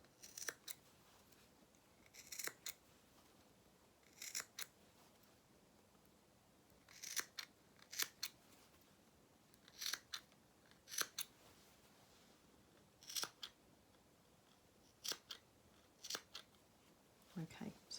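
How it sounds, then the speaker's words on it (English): Scissors snip into the curved seam allowances of small fabric dungarees. The crisp cuts come close and quiet, often in quick pairs, recurring every couple of seconds against a hushed background. "we're just going to do those snips."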